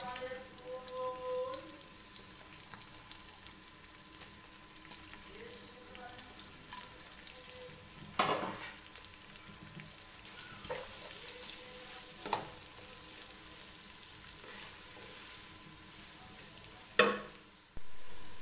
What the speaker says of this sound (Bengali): নাড়াচাড়া করে তারপর আমি পেঁয়াজ কাটাগুলো দিয়ে দিচ্ছি।